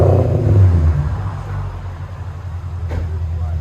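A 2017 Porsche Cayenne S with a 4.8L V8, dual exhaust and Vibrant resonators gives a deep, loud exhaust rumble that starts with a throaty rev and settles into a steady low drone.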